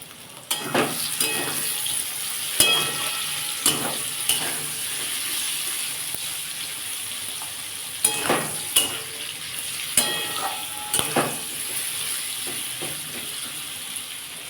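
Pointed gourd (parwal) pieces fry in oil in a pan with a steady soft sizzle, broken by occasional stirring scrapes and utensil clinks, with no talking.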